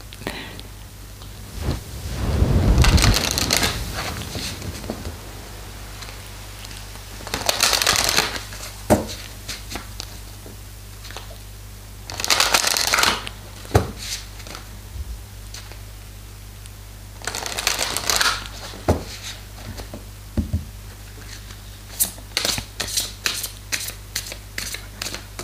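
Tarot cards are shuffled close up in several separate riffling bursts, with faint taps and soft handling noises in between.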